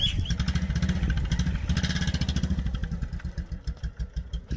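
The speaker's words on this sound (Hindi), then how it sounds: "जब मैंने एक्सीलेटर से प्रेशर बनाया और उसके बाद बाइक को ऊपर की तरफ ज़ोर से खींचा हाथों की और कलाई की मदद से, तो बाइक ऊपर आया है" A motorcycle engine revs hard as the rider pulls the front wheel up into a wheelie. The close, loud, rapid firing pulses hold steady, then loosen into a choppier idle toward the end.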